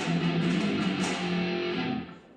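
Distorted electric guitar grinds out a sustained 1980s metal power-chord riff, dense and loud throughout, then cuts off with a brief fresh attack at the very end.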